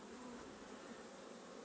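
Bees hum at an opened beehive, a dense, steady buzzing close by and fairly quiet, with no voices.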